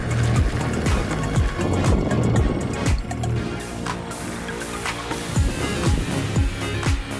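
An electric Onewheel board fitted with rail guards and a fender rolls along on a ride home, a steady whir under road and wind noise, with a repeated thumping rhythm from bumps or pavement joints running throughout.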